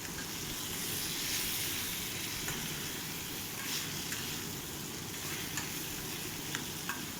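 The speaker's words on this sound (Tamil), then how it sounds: "அந்த எண்ணெயிலே நல்லா அந்த கத்திரிக்காய் நல்லா வதங்கணுங்க." Brinjal (eggplant) pieces sauté in hot oil with a continuous, even sizzle and crackle, broken by faint stirring clicks. No one speaks.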